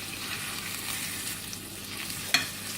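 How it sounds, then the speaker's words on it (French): Escalopes browning in a pan with paprika, giving a steady broadband sizzle and crackle of frying that holds evenly throughout, with one brief sharper crackle near the end. "les escalopes sont en train de dorer, comme vous pouvez le voir"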